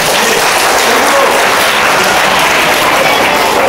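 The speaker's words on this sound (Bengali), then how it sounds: "সবার জন্য একটা হাততালি" A loud burst of applause fills a school's annual results ceremony for classes six to nine, with continuous hand clapping from a gathered crowd lasting a few seconds.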